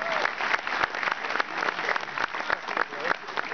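An audience in a theatre concert hall applauds for a stage technician, steady dense clapping throughout at moderate distance, with a voice briefly audible among the clapping.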